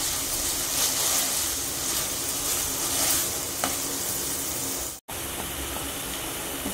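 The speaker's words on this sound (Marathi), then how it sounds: "तेल चांगलं गरम झालं की आपण त्यामध्ये वाटण टाकणार आहोत। मसाला चांगला भाजून घ्यायचा।" Ground masala paste for mutton rassa fries in hot oil, producing a dense, loud, continuous sizzle with stirring scrapes, broken briefly by a sudden cut to silence near the end before the sizzle resumes.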